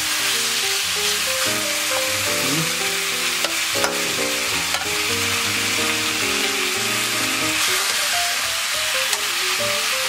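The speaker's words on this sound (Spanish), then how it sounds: "Se va a empezar a cocinar el pollo, se va a empezar a cocinar con sus mismos," Chicken cooking in its own juices in an oiled pot gives a continuous sizzle and bubbling for the whole stretch, with background music playing throughout and no talking.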